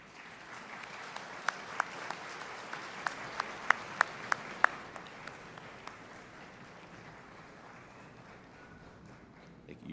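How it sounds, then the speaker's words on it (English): Graduates and their audience applaud at a summer commencement ceremony, a steady wash of crowd clapping heard from some distance with a few sharp individual claps standing out before it gradually thins. "Graduates, I ask that you stand up, turn around, and applaud to thank those special people."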